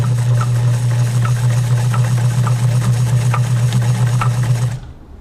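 A Kenmore 1207 sewing machine runs a stitch test, giving a steady, even motor hum with a fast mechanical needle clatter that keeps going for several seconds, then stops abruptly near the end.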